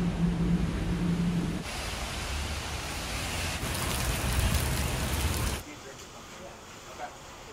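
Steady hiss of rain falling outside on a New York City street, even and continuous, then dropping to a softer wash near the end.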